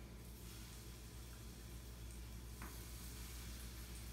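Plantain pieces dropped into hot oil on an electric stove, a faint, steady sizzle running throughout with a low hum underneath and no talking.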